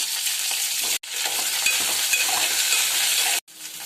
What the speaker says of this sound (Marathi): आता भेंडी टाकून आपण परतून घेऊया भेंडीला